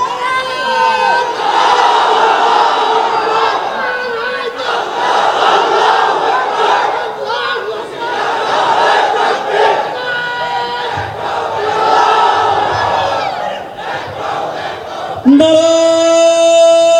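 A large crowd roars in unison, chanting takbir in long, loud, sustained waves of massed voices that rise and fall, ending with a brief higher sustained tone.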